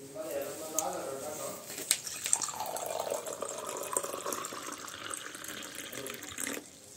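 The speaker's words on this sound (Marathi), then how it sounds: "आता आपल्याला या घटामध्ये पाणी टाकून घ्यायचं." Water is poured into a ritual kalash pot, making a soft, continuous trickling and splashing for several seconds that shifts slightly in tone as the vessel fills, then stops abruptly; it is quiet and close.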